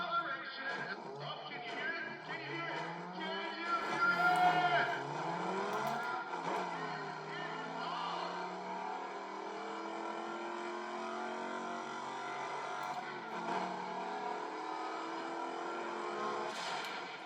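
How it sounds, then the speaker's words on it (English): Race car engine in Need for Speed ProStreet grip racing, a steady droning whine with rising and falling revs and gear changes, continuous and fairly loud throughout. "This one car is really easy to get grip with."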